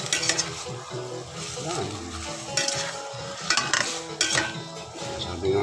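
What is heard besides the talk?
sautéing tabayag in a pan, stirring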